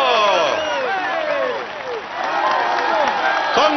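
A stadium crowd at the podium ceremony of the Saint-Gaudens to Saint-Lary-Soulon stage in the Tour de France 2014 video game applauds steadily and cheers throughout, a dense, even wash of clapping with voices mixed in.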